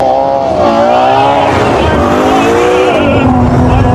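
Loud, high-revving engine howl from a Ferrari SUV's 6.5-liter naturally aspirated V12, with rising and falling pitch as the throttle swells and eases, a smooth multi-cylinder wail close by and continuous.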